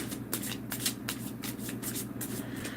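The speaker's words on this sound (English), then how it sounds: "I'll shuffle one more time" A deck of tarot cards is shuffled by hand during a reading, giving a steady run of crisp riffling flicks and soft card slaps, close and moderately quiet over a low background hum.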